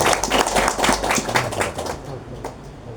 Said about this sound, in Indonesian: Untuk itu kita beri aplaus bersama Kang Rahel.